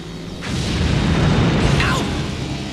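A deep boom erupts and rumbles on for a couple of seconds, followed by a brief rising whistle-like sound.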